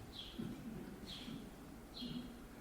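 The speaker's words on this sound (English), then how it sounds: "I hear a bird chirping, a bird." A few short, high bird chirps repeat roughly once a second over a low, steady background hum, faint and somewhat distant.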